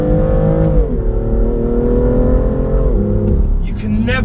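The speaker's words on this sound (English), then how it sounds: "The thing with this car, that exhaust note" A 2017 BMW M2 accelerates hard, its exhaust giving a loud, close, rising engine note through one gear, then a shift and a fresh climb.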